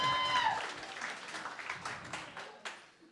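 A live podcast audience claps briefly for a guest, a short burst of applause that tapers off over a few seconds, with voices faint underneath.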